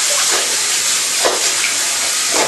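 Cloth is swished around in a basin of water with a capful of detergent, making a continuous close sloshing wash with a few stronger surges of splashing.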